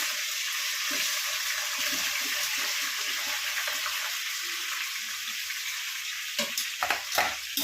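Mushrooms, green chillies and coriander frying in a pan, giving a steady, close, continuous sizzle with light stirring and a few brief clinks near the end.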